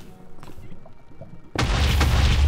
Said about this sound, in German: Ich habe die angehauen, dann sind die explodiert.